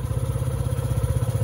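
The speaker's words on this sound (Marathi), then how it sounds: "सो आता बाईक आपण चालू केली आहे" A motorcycle engine runs steadily throughout, a close, loud idle with a low throbbing rumble and light mechanical clatter, without any clear start-up moment or revving.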